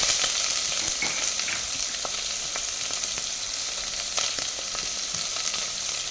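Whole spices including star anise frying steadily in hot oil for a restaurant-style veg pulav, an even close sizzle with faint scrapes and light clicks of stirring, no voices.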